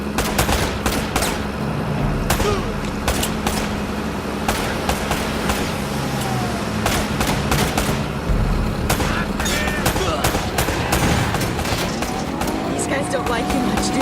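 A shootout in the video game Uncharted: Drake's Fortune, with dense, continuous bursts of rapid gunfire and scattered single shots over a steady din, and voices talking through it.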